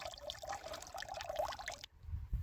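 Liquid fertilizer being mixed into water for a sugarcane drenching, a steady pouring and trickling wash that runs close and fairly loud before cutting off, followed by a couple of low thumps.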